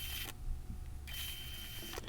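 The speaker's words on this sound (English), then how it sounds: "let's take a look at the main feature, the pop-up selfie camera" A Samsung Galaxy A80 pop-up selfie camera rises with a soft, steady mechanical whir. The motor noise shifts in texture partway through and plays alone against a quiet background.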